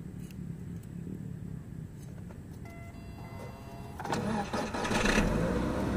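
A BYD F5 Surui engine is started by remote: quiet idle background, a brief mechanical click and whir, then the engine catches and settles into a steady low running hum that grows louder toward the end.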